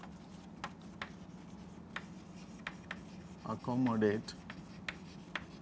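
Faint, regular taps and scratches come from writing on a board, with one short squeaky stroke standing out midway, all beneath a person speaking.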